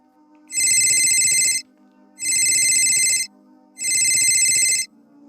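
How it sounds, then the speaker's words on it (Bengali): A mobile phone ringtone plays three times, each ring a bright electronic chime about a second long, separated by short pauses. "পকেটের মধ্যে বেজে উঠল মোবাইল ফোনটা।"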